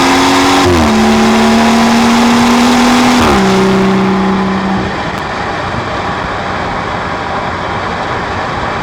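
A BMW 340i with the B58 engine cruises on an open, empty road at sunrise in South Africa, a steady loud engine drone with a couple of gear changes before it settles into road and wind noise.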